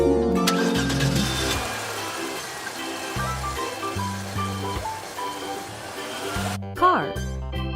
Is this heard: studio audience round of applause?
no